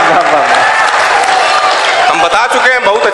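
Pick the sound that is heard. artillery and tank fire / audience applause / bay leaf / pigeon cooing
audience applause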